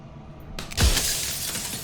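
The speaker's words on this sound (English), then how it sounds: "And then another crack forms, and another, turning the mirror into jagged shards of broken glass." Mirror glass cracking and then shattering in the Slay the Princess video game: a quiet lead-in, then one sudden loud crash with bright breaking shards ringing out and fading over the next second.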